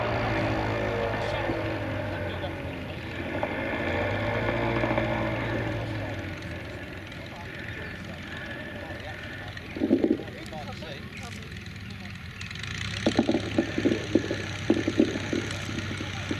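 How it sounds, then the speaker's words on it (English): A Martlet replica pre-First World War aircraft lands at Shuttleworth, its engine a steady distant drone under gusty wind noise, with brief clattering bursts toward the end. "So the Martlet just landing on."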